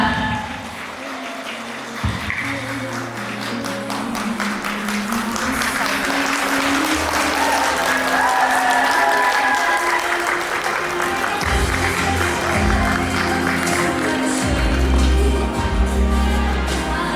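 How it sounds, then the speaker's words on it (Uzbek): Audience applause at a 2025 graduation ceremony as a teacher is invited onto the stage, a dense, steady roar of clapping that swells and holds loudly for the whole stretch with crowd noise mixed in. "Qarsaklar bilan."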